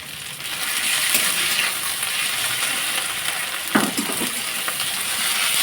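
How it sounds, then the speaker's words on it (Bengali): Ginger-garlic paste fries in oil in a pan with onions, a loud, continuous close-up sizzle with a brief stirring scrape partway through and no talking. "আমি আদা রসুনটাকে ভালো করে ভেজে নেব"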